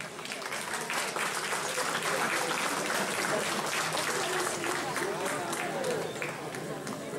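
An audience at a mayor's New Year reception in the Yvelines applauds to welcome a jazz band, a broad, continuous wash of clapping from many hands with crowd murmur and voices underneath.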